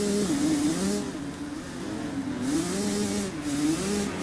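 A 125cc motocross bike engine in the video game MXGP 3 drones loud and close, its pitch rising and falling in repeated revving waves as the rider shifts through gears, with no talk over it.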